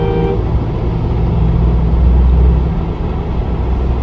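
Inside a Mahindra Scorpio N overtaking on an Indian highway near the Purvanchal Expressway, there is a loud, steady rumble of engine and road noise with a short horn-like toot at the start.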